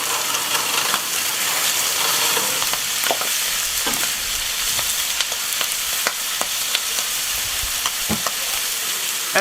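Beef sizzles and fries in a hot Dutch oven while being stirred and spread around, a steady crackling hiss broken by scraping and clinking of the utensil against the pot.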